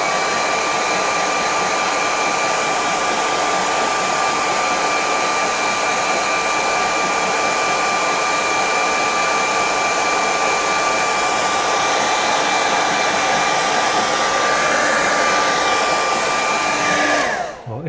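A hair dryer blows steadily onto a freshly painted watercolour, a loud continuous whooshing hum lasting about eighteen seconds before it cuts off abruptly at the end.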